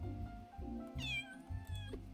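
A cat meows in the cozy cat cafe video game Calico, a single drawn-out plaintive meow rising over a steady low background hum of game music.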